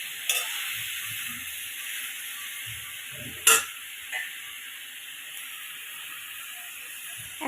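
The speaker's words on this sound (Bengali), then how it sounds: "এখন দিয়ে দিচ্ছি নুন, চিনি, হলুদ, লঙ্কার গুঁড়ো দিয়ে একটু কষিয়ে নেব 2 মিনিট মতো" Spices with salt, sugar, turmeric and chilli powder frying alongside seeded bananas and potatoes for a fish curry, a steady soft sizzle and hiss broken by a few short stirring scrapes.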